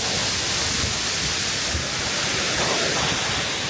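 A waterfall in Bosnia and Herzegovina thunders close by, a loud, dense and unbroken hiss-like roar with no voices.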